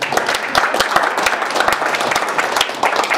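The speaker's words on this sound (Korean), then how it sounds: "다시 한번 우리 윤정용 작가에게 감사의 박수." An audience at a foreign affairs and security forum claps warmly in thanks, dense steady applause filling the room for the whole stretch.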